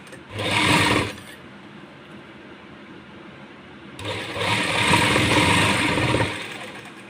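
A sewing machine stitches a loose palazzo in soft, lightweight fabric, running slowly in two loud close bursts, a short one and then a longer steady run, with a quiet pause between them.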